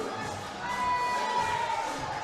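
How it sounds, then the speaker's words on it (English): A crowd at the Canadian women's curling championship cheers and shouts, a loud, swelling roar of many voices lasting a couple of seconds. "The crowd goes wild."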